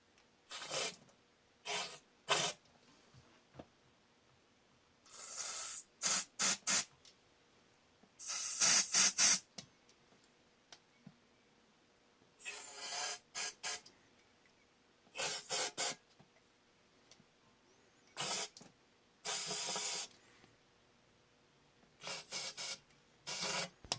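Cleaner sprayed in short bursts onto a 2002 Nissan Sentra cylinder head during a head gasket job, a string of sharp hissing sprays of varying length separated by quiet gaps, close and fairly loud, with no talking.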